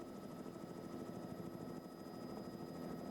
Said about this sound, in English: 3 weeks after the eruption, a helicopter touched down on the blasted, barren ground that was once the Mount St. Helens Lodge, the place Harry Truman had called home.